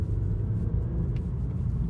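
A BMW E90 318i on a test drive gives a steady, low engine and road rumble from inside the car, constant and even throughout with no talking.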